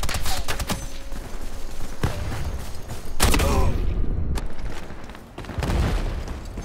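Bursts of VSS rifle fire in the video game Ironsight, several close, sharp shots spread across the moment with rumbling booms and mechanical clatter between them.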